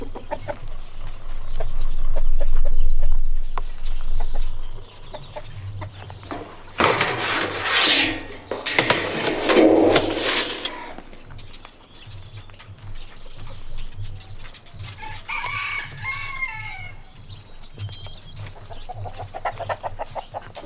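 Chickens cluck and scratch around on a farm during daily chores, with scattered close clucks, rustling and rasping of feed or wood, and a loud noisy burst partway through. No talking.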